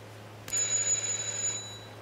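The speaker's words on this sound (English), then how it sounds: "Just ring the doorbell." A doorbell in the Hitman 2 video game gives a single bright electronic chime lasting about a second, clear over quiet room tone with no talking.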